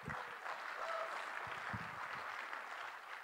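Audience at a 'What if...' dream panel event applauds the panelists with steady, dense clapping that fills the whole moment at a moderate, even level.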